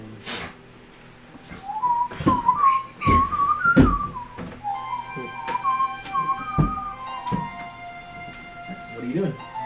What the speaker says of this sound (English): And you hear the familiar whistling.